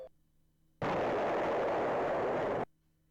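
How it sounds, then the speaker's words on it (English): A magical talisman blasts a keystone in a retro puzzle adventure game, producing one loud, sustained roaring explosion that lasts about two seconds and cuts off abruptly into quiet. "You blast the keystone with the talisman."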